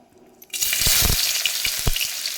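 Onion dropped into hot oil for a wild mushroom curry bursts into a loud, close sizzle after a brief quiet start, then keeps frying steadily with crackling pops.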